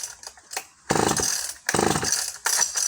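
A cold vintage Solo 660VA chainsaw is pulled to start: a few short, sharp rasping pulls, then three loud bursts of two-stroke engine sputter that catch briefly and cut out, close and without talk.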